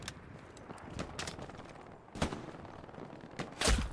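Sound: sniper rifle gunfire in video game Hell Let Loose

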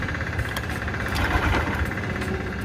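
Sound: Honda Shine motorcycle engine sputtering and stalling on self-start

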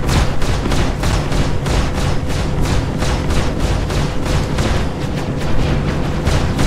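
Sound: gunfire in video game Star Citizen

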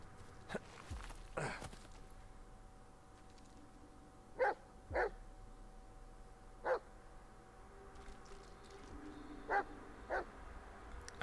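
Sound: dog barking in the video game Blair Witch

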